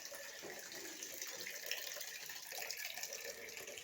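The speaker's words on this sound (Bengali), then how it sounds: "জলটা ভরে নিচ্ছি" Tap water running steadily into a cooking pot in a home kitchen, a faint continuous hissing rush with no pauses.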